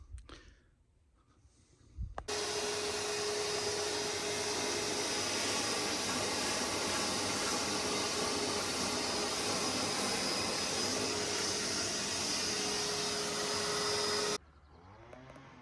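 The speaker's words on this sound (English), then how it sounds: "So I'll get rid of the worst of it now with the vacuum cleaner." A loud, steady vacuum cleaner roar starts abruptly after a quiet moment, runs unbroken with a high whine for about twelve seconds while removing dust aboard a sailboat, then cuts off.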